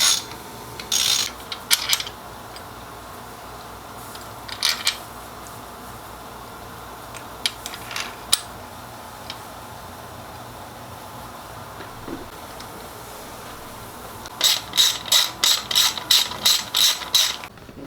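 Ratchet clicking as engine mount bolts are tightened on a Kawasaki KX250 dirt bike, short bursts of rapid pawl clicks scattered across the clip with a final run of eight quick strokes near the end, no talking.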